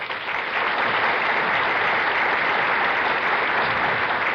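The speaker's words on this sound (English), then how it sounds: "I don't know whether you're applauding because he said City of Hope" Steady, dense applause from a game show studio audience fills the room at full volume throughout, with no talking over it.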